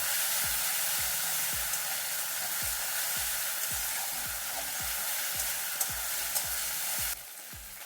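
Green chili, ginger, cumin paste and tomatoes frying in oil, a continuous close hissing sizzle with a regular rhythm of low thumps and scrapes from stirring, no voices.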